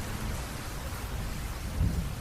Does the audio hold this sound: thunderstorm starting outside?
yes